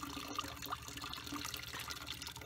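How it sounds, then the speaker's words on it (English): Kvass liquid poured off from a bush pot through its spout to strain out raisins and bread, a steady close trickling and splashing of liquid running continuously outdoors at a trapper's cabin. "So we're just pouring the liquid off."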